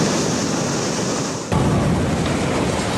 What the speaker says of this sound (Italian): quando la furia delle onde ha incominciato a sgretolare le strutture di via Villini a Mare